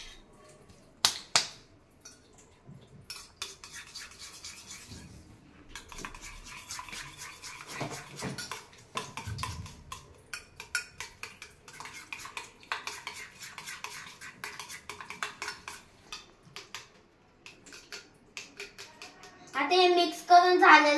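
Beaten egg omelette mixture is whisked in a bowl, a rapid run of light clinking and tapping strokes against the sides, with a voice talking briefly around it.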